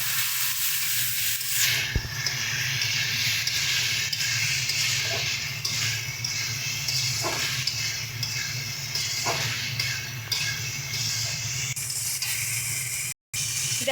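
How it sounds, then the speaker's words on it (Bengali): Spice paste for a Bengali fish dish cooked with radish sizzles and hisses steadily in hot oil as small amounts of water are added, with occasional stirring clinks, continuous and close. "এবার অল্প পরিমাণে এর মধ্যে জল দিয়ে দিয়ে মশলাটাকে ভালো করে কষিয়ে নেবো"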